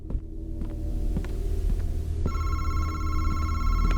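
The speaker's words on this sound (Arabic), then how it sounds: "التليفون بيرن." A telephone rings in the horror video game MADiSON, a steady electronic ring with sustained tones entering midway over a low droning hum and throbbing ambience.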